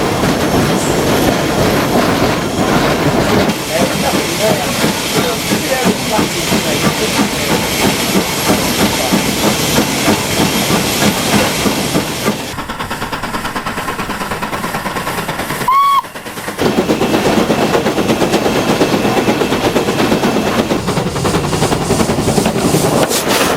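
A heritage steam train climbs a 1 in 80 gradient towards Kelling Heath on the North Norfolk Railway, with a loud continuous rumble, hiss and clickety-clack of wheels on rail, a brief quieter stretch and a short whistle near the end.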